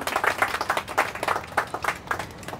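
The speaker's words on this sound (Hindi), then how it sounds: "एक बार तालियाँ होनी चाहिए जोरदार।" Loud clapping and applause from a crowd at a 2019 birthday celebration with friends and studio staff, a rapid, dense burst of hand claps up close.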